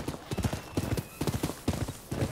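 Rhythmic clip-clopping of horse hooves in the video game Rise of the Ronin, a brisk repeating gait of sharp knocks, loud and close throughout.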